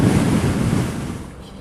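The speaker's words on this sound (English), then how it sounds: "I guess a cold front up there, making for a lot of wind here" Loud, continuous wind roar buffets the rider on a 2013 Hayabusa motorcycle cruising at 80 on a gusty day, heavy and steady at first and easing slightly toward the end.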